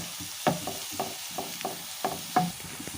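Cumin seeds frying in a little oil for a spinach dish, a soft continuous sizzle broken by several crisp scraping and stirring strokes at a steady pace, close and moderately loud, with no voices.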